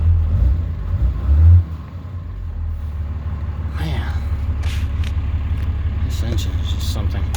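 Cummins diesel in a 2014 Ram 3500 truck with about 450,000 miles idles with a steady low rumble throughout, loudest in the opening seconds, while someone talks over it.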